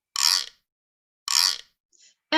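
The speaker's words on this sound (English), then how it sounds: "the güiro," A güiro is played for a children's music lesson, with two bright rasping scrapes about a second apart, then a brief faint scrape and the start of another, close and fairly loud.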